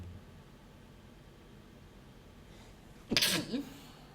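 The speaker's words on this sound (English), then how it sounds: "Sorry, I had to sneeze" A single sharp sneeze bursts out near the end, close and loud, following a few seconds of quiet background hiss.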